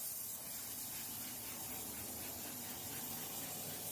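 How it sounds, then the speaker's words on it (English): A steady, faint hissing spray of water runs continuously without pause, flushing the gasket of a car door during window tinting. "you're going to flush out the sides and the bottom gasket"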